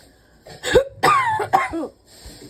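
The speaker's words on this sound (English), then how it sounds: "But now I'm coughing again." A few rough, close coughs in quick succession, raspy and throaty, with brief quiet gaps between them.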